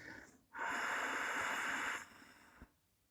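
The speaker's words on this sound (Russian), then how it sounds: "Мы делаем сначала выдох с озвучиванием таким же звуком «ха»." A single forceful, breathy exhale voiced as a 'ha' during a qigong lung-strengthening breathing exercise, close and loud for about a second and a half, followed by a faint breath.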